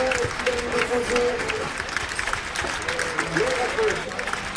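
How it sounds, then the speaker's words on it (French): Applause from an audience at a skating rink presentation in Morzine, a steady patter of clapping heard under a voice amplified over a public address system. "Un maximum d'applaudissements pour Albert."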